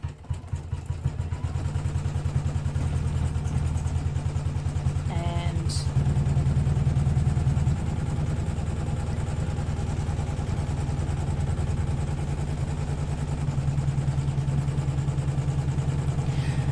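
An embroidery machine stitches a design onto a T-shirt in two separate pieces, giving a steady, even mechanical hum with a dense rapid stitching pulse. It holds at a constant level throughout, with a short higher whine partway through.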